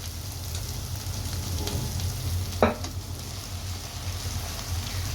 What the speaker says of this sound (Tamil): இப்போ நான் வந்து எனக்கு தேவையான அளவுக்கு ரைஸ் வந்து ஆட் பண்ணுறேன்